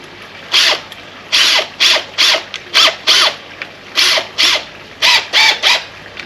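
A power drill fitted with a new bit bites into a heavy, dirty piece of granite in about a dozen short, sharp whirring bursts separated by brief pauses.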